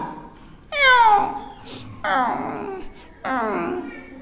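A human voice imitates a small kitten trapped and starving at a bus terminal, giving three drawn-out, falling meows in a row, each clear and fairly close, with short pauses between them.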